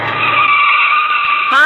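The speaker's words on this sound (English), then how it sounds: "And here comes a car." A car pulls up as a radio drama sound effect on an old time radio show, a loud tire squeal sustained for over a second, ending in a brief rising screech as it stops.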